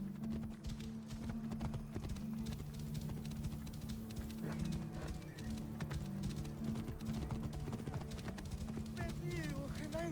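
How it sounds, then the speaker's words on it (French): Horse hooves clip-clop in a steady rhythm in the video game Assassin's Creed Origins. The hoofbeats run continuously beneath French character dialogue and background music. "Ce doit être le cheval de Mered."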